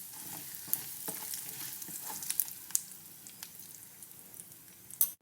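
Powdered asafoetida stirred into a hot pan of oil while making sweet mango pickle: steady soft frying sizzle with scattered spoon scrapes and clicks, a sharper knock near the end, close and alone.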